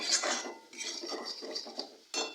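Spice masala with Kashmiri chili powder and salt sautéed in a pan, heard as quick, close scraping and clattering strokes of a utensil against the metal, with no one talking.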